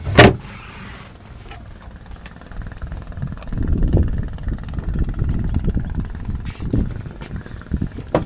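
A Beta Marine 37.5 hp diesel boat engine runs steadily with a low, rumbling drone, close by, with a few sharp knocks at the start and no talk.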